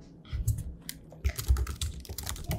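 Irregular bursts of quick key presses on a computer keyboard, close and moderately quiet, with short pauses between clusters of taps.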